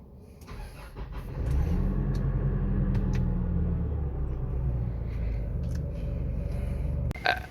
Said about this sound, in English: Thing I'm gonna do is get my truck out of here